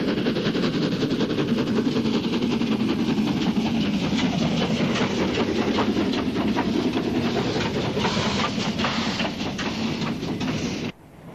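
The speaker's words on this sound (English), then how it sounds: "Britain did, however, have an equally large Beyer Garrett, LNER number 2395, seen here in a rare film clip." LNER Beyer Garratt steam locomotive number 2395, heard on an archive film soundtrack: a loud, continuous chuffing rhythm with rapid beats and clatter that runs for around eleven seconds and then cuts off abruptly.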